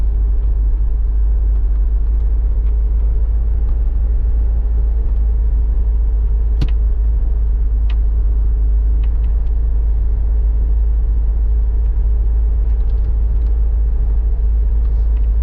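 A vehicle labouring up a steep hill in Mandeville, Jamaica, heard as a loud, constant low engine rumble with heavy wind-like buffeting throughout and a couple of faint clicks.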